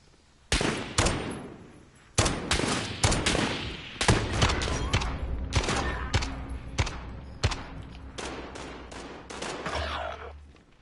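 Video game gunfire in a battle royale match, a string of loud, sharp shots in rapid bursts and single cracks over about ten seconds, close up and without speech.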